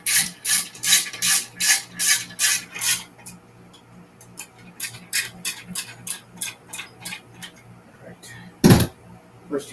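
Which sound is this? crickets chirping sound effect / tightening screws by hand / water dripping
tightening screws by hand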